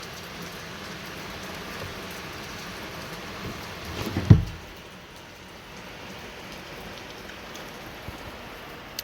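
Morning rain falls in a steady, even patter on nearby surfaces, with a single dull thump about halfway through and no talking.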